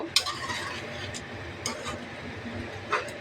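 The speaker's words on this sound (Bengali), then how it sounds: "কিছুক্ষণ এটা সসগুলো দিয়ে একটু কষে নেব" Chilli chicken with tomato sauce stir-fried in a pan, a soft steady sizzle with a few sharp utensil scrapes and clinks against the metal.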